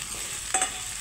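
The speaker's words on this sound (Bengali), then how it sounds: "তো একসাথে পেঁয়াজ আর কাঁঠাল সয়া একসাথে আমি ভাজবো।" Onion and jackfruit soya frying in a pan, a brief close sizzle with a sharp stirring scrape midway through the short burst, loud and unaccompanied by speech.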